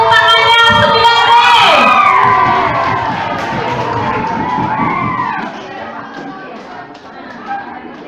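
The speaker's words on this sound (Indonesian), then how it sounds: "Mana tepuk tangannya 9D?" At a school anniversary celebration, a crowd of students cheers and shouts loudly for class 9D, high children's voices rising together and then fading into mixed chatter and scattered noise.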